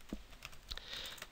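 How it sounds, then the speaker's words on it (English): Faint, quick keystrokes on a computer keyboard patter irregularly in a quiet room, with soft clicks scattered over about a second. "So let's type that up."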